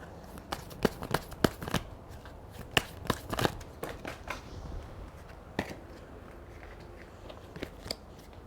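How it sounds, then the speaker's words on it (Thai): Tarot cards shuffled and handled at close range, a run of sharp flicking snaps and riffles in irregular bursts over quiet room tone, with no talking. "เดี๋ยวเปิดไพ่เพิ่มนะคะ"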